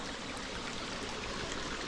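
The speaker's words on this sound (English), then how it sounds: "Another river out of nowhere," River water runs steadily through a village, a continuous broadband rushing that holds an even level throughout with no breaks.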